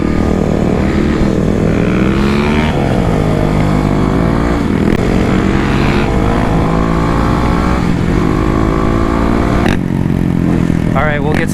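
A Kawasaki KLX dirt bike, either the KLX351 or KLX250, revs and drones loudly as it rides back toward a parking lot, the engine pitch rising and falling with gear changes and wind noise throughout.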